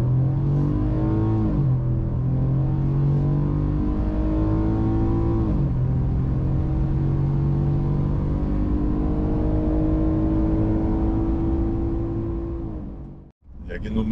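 A Ford F-150 pickup revs hard in sport mode, its engine note climbing through held gears with brief dips at each shift, loud and steady from start to finish, with a voice talking over it.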